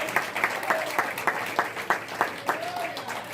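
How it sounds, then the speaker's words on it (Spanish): A church congregation claps in steady rhythm during a worship service, the sharp, evenly spaced claps landing roughly three per second while a voice sings or speaks over them. "Dale fuerte esas palmas a Jesús en esta tarde."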